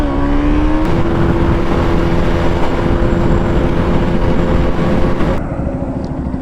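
A KTM Duke 200 or Duke 250 motorcycle pulling hard in first gear, its engine note loud and rising steadily before cutting off abruptly near the end.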